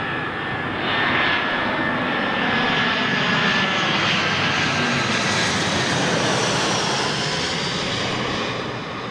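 A Martinair passenger jet in KLM livery roars loudly and steadily as it passes close by at London Heathrow, its engine whine swelling and then slowly easing away.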